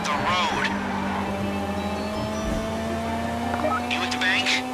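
A car engine drones steadily at a constant rising pitch while driving in the video game GTA Online, with brief higher whines and effects near the start and end, and speech-like voices over it.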